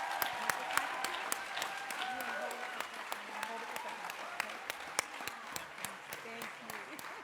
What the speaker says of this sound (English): Let's give Miss Starfields another round of applause.